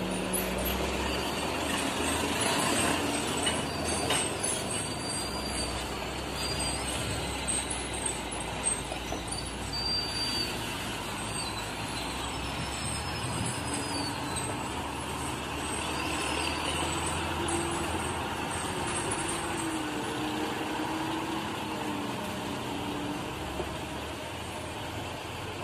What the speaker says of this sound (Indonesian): Ketemu sama truk Tino juga muatan berat.